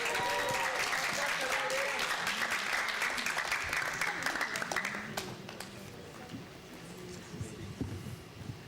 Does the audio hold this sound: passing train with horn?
no